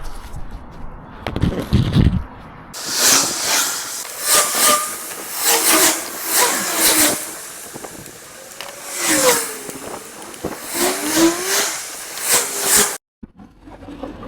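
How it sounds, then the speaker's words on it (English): Traffic on a busy road rushes past in repeated swells, each vehicle building and fading in turn, fairly loud and close, with hissy tyre and engine noise and no talk. "Just have a listen to how busy this road is"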